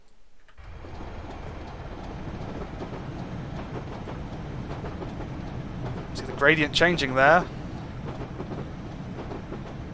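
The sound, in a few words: BR Class 25 train running, Weardale & Teesdale video game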